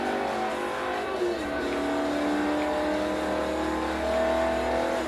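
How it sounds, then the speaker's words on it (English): An AMC Javelin AMX with an American V8 engine in Forza Motorsport 3 holds a steady, fairly quiet engine drone with rising and falling pitch through gear changes, mixed with faint tire noise. "Do you listen to that? That's a pure American V8."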